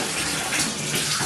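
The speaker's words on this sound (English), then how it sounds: "I knew Oscar wasted all the hot water" Shower water running in a Poconos vacation house bathroom, a steady close hiss of spray filling the whole short stretch without pause.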